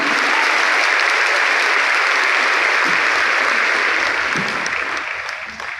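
Sustained applause from an audience at a seminar, a thick, even wash of many hands clapping at close range, holding steady before tapering off at the end.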